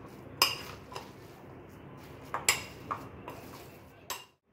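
Raw mango dal with coriander mixed in a pot, the spoon striking and scraping the metal in a few sharp, faint clinks spread across a quiet stretch.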